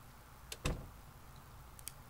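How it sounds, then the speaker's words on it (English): A door closing in the video game Project Zomboid, a single quiet thud with a brief click, preceded and followed by faint ticking sounds against a low background. "We're also going to just kind of close that door"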